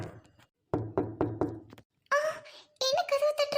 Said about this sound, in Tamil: என்ன கதவு தட்டுற சவுண்ட் கேக்குது?